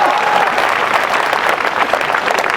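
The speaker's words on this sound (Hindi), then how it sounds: "अरे तो नालायको ताली ठोको" A room of students in an interview setting bursts into dense, continuous applause, loud and close throughout.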